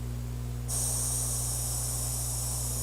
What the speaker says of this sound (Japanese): スプレーの吹き出し威力を確認します